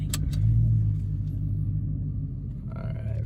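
Manual Dodge Challenger Scat Pack driving, a low engine rumble that swells briefly early on and then settles into a steady drone, with a couple of short knocks at the start.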